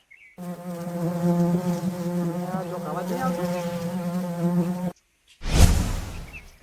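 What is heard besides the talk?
buzzing bumblebees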